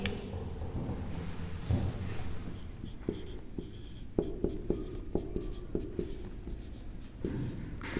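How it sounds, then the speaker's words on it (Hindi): Teacher writing on a board during a Hindi class, a series of soft taps and scratchy strokes with a short pause near the middle, heard under quiet room noise. "देखो, अभी यहाँ पे हम लिखेंगे कि शास्त्री जी"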